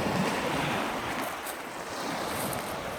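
Ocean surf washing steadily at close range, a constant broadband roar of breaking waves mixed with gusty wind buffeting the microphone, with no voices.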